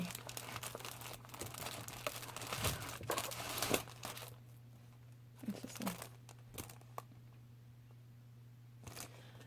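Plastic bag around a cross stitch kit crinkling and rustling close by, a steady stretch of crackling for about four seconds, then a few short scattered crinkles before it goes quiet.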